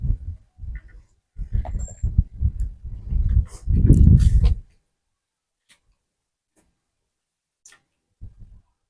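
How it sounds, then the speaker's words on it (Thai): A dog at a rural Thai home gives a run of loud, close howls and whines for several seconds. Silence follows, with a few faint ticks and a brief low sound at the end. "หอนเนาะ"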